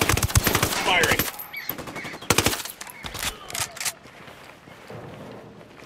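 Rapid automatic gunfire crackles in video game Ghost Recon Wildlands, several loud close bursts with brief pauses between them, trailing into sparser distant shots and faint footsteps.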